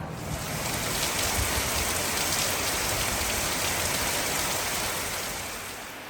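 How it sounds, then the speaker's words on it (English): Steady heavy rain pours down in southern Thailand on a hot day, a dense unbroken hiss of drops on surfaces, loud and close for the whole stretch. "it is raining pretty good off and on"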